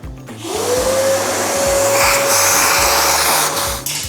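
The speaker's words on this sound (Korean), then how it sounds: "이제 이 안쪽에 있는 원두들 다 이제 청소기로 빨아들여 줄게요" A vacuum cleaner sucks old, caked coffee beans out of the inside of a Mahlkönig E80S grinder. The motor spins up to a loud, steady whine and a rushing roar, close by, with no talk.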